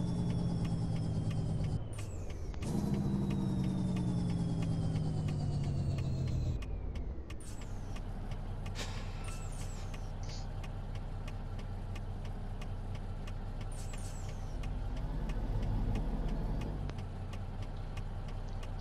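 A Kenworth T908 truck pulls to a stop, with a sharp air-brake hiss and descending engine tone, then settles into a steady low diesel idle that rumbles on loudly and continuously.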